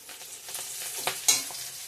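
Potatoes and pointed gourd sizzle in a hot pan with a spatula scraping and stirring, a few louder scrapes over a constant frying hiss.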